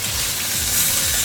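Lobster pan-fries in oil, a bright hissing sizzle that is steady and close throughout the short stretch.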